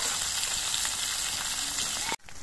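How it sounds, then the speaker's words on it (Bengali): Small mourala fish frying in hot oil, a loud, close, continuous sizzle with fine crackles that stops abruptly near the end, with no talk. "এবার আমি বাকি মাছগুলো ভেজে নিচ্ছি"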